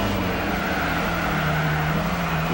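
A turbocharged Mitsubishi Eclipse with a Stage 1 turbo upgrade racing on the final lap in Gran Turismo 4, its engine giving a steady, sustained drone at constant pitch with no gear changes.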